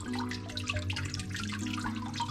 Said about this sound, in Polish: Ta woda perfekcyjnie spływa